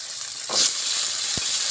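Pumpkin tipped into a pan of onions and green chillies already half-fried, a quick hiss and clatter swelling over steady sizzling; near, with no talk.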